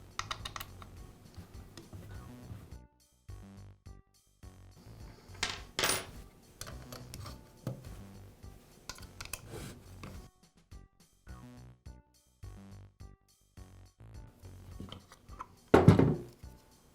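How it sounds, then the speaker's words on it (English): Small metal screws and parts being removed from the magazine of a Makita nailer during repair, heard as scattered clicks, taps and light metallic clinks with a sharper clatter near the end, close and without speech. "I'll remove the nose piece cover from the magazine, and then the screws that secure the magazine to the housing."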